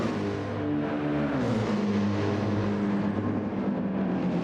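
Several racing car engines from Gran Turismo 7 at Monza drone and whine together as the cars run side by side toward turn 1, steady, loud and rising slightly in pitch, with no talk.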